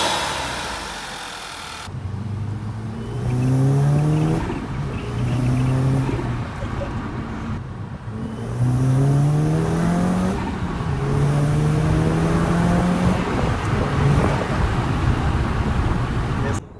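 2010 VW GTI with a 2.0L TSI engine and a Forge diverter valve, driving with repeated rising acceleration pulls and shifts, moderately loud from inside or near the car, with tire and road noise underneath.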